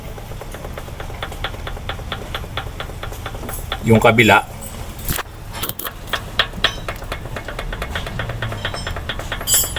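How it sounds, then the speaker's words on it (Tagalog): A second-hand Mitsubishi Montero engine with a damaged engine and transmission idles with a rapid, steady ticking knock, close to the microphone, while voices talk over it and metallic clanks and rattles break in midway. "Ito, pakinggan nyo yung tunog ng makina."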